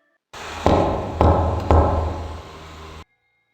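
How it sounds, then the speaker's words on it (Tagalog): Three slow, deliberate knocks land on a door, evenly spaced over a hushed, steady background hiss, then the sound cuts off. "nakarinig ako ng 3 katok sa pinto"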